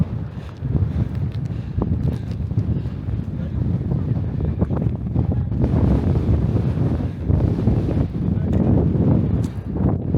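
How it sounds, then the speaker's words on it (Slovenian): Strong wind gusting across a mountain summit in the Julian Alps near Mala Mojstrovka, a loud continuous buffeting roar hitting the microphone in surges for about ten seconds. "Vrh kar zelo grdo piha"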